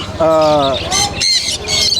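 Caged parrots at a bird market in Mirpur give loud, harsh squawks in several close bursts, with market chatter and voices mixed in among the calls.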